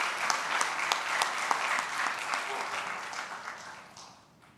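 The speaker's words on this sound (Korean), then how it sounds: "격려하는 마음으로 우리 박수 한번 보내겠습니다." A church congregation at a Sunday worship service gives a burst of applause to welcome the pastor. Dense clapping from many hands is loud at first and fades away over about four seconds.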